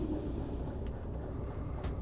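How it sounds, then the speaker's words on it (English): Locomotive in the train simulator game Derail Valley reversing to couple onto an assembled train: a constant low engine rumble with faint clanks, steady and close throughout the short stretch, with no talking. "reversing the second locomotive into the front of the assembled train."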